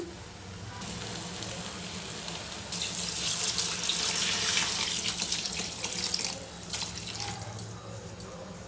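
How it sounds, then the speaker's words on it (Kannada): Water poured into a pot of rice for chana soya pulao makes a steady close gush that swells in the middle and trails off into a faint bubbling sizzle, with no voices. "ಈಗ ಒಂದು ಲೋಟ ಅಕ್ಕಿಗೆ ಎರಡು ಲೋಟ ಅಂತೆ ನೀರು ಇದ್ದೀನಿ"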